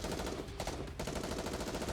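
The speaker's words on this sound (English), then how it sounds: "Logi opens fire. Gunshots tear through the air, the muzzle fixed on Black Typhoon's engine." Rapid gunfire from a gun in the game NIKKE, a dense continuous rattle of shots that fills the clip, loud and close, with a brief dip in the middle.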